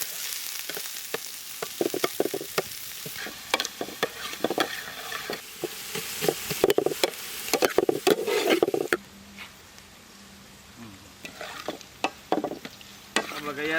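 Onions sautéing in hot oil for goat intestine gravy cooked outdoors, with a steady frying sizzle broken by frequent clattering stirs of a ladle against the pan, close and busy, easing off toward the end.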